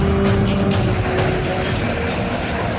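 A car with three people aboard drives past on a street, a steady broadband engine and road rumble holding loud and close through the whole stretch with no clear fade.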